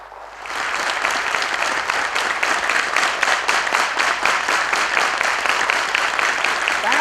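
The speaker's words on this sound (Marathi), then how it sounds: "यांच्यासाठी एकदा जोरदार टाळ्या झाल्या पाहिजेत" Sustained applause from a large seated audience at a live stage event, loud and steady continuous clapping throughout after a quick start.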